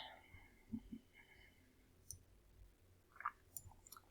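Computer mouse clicks, faint and sparse, a few light taps scattered among quiet room noise.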